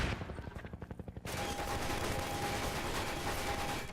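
A Combine gunship in Half-Life 2 opens with rapid rhythmic gunfire bursts, then a loud sustained roar of heavy fire and explosions fills the rest, close and intense.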